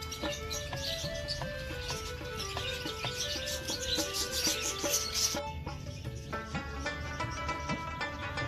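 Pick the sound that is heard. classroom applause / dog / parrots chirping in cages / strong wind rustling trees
parrots chirping in cages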